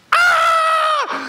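Storyteller's voice imitating squirrels screaming, a single loud sustained high-pitched vocal cry of about one second ending in a falling tail, alone and close.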